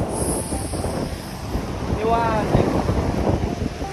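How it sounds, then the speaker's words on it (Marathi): Steady broadband wash of sea waves on Diveagar Beach in Konkan, with wind buffeting the microphone, continuous and fairly loud, with a faint voice partway through. "गारगार पाणी आणि हा लाटांचा आवाज."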